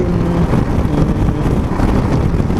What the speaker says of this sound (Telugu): తర్వాత విండ్ నాయిస్ విపరీతంగా వినిపిస్తుంది